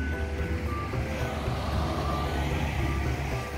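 Vehicles at the Watu Giring tourist site in Gunung Kidul, Yogyakarta, rumble continuously nearby, with a steady reversing beep from a truck sounding over the engine noise.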